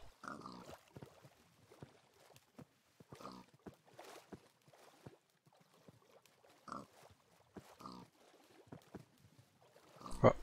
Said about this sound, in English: some of the piggies escaped because I didn't close this off